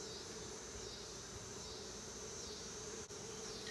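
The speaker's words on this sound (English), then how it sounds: "These frames aren't plumb full of bees." Bees buzzing among beehive frames, a dense continuous hum that holds close and even throughout, briefly dipping for a moment near the end.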